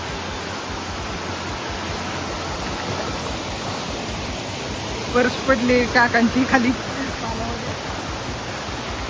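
A jungle waterfall near Panshet, Pune, heard as a steady broadband rush of falling water that fills the whole stretch, with a short burst of people talking partway through.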